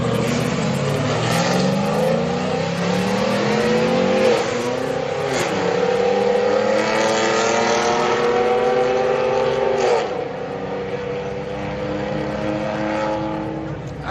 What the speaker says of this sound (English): I can't stand the sound of a V6 truck.